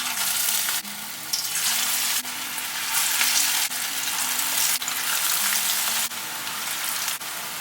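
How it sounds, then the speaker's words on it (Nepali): Mixed vegetable pakoras made with mustard greens deep-frying in hot oil: a loud, dense, steady sizzle, with occasional brief clicks as pieces are added or turned. "अब यो पकौडा फ्राई गर्न पट्टि लाग्ने"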